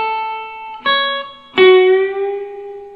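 Slow string bends on an electric guitar from a song's solo, a sustained note swelling at about 0.8 s and another struck near 1.6 s that rings and bends slowly, played clean and close with no voices.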